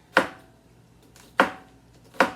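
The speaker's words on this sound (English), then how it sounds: "I'm chopping an onion and green pepper." A knife chops onion and green pepper on a board in a home kitchen: three sharp, separate chops spaced about a second apart, close and crisp, with no voices.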